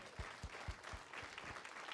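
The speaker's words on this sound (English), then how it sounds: "Shall we give God the best clap of praise po?" A church congregation claps in praise, with several faint, rhythmic, steady unison claps over a soft background murmur.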